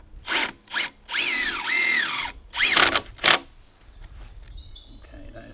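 Power drill driving a screw into barn timber, several short bursts of whirring with rising and falling pitch, separated by pauses, then a quieter tail of faint creaks.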